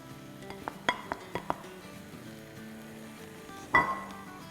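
Malai boti meat pieces dropping into a biryani pot, making a few soft clinks and light thuds over a faint low sizzle, then one louder clatter near the end; no talking.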